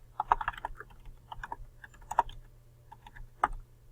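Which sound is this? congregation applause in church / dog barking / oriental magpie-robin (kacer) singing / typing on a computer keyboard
typing on a computer keyboard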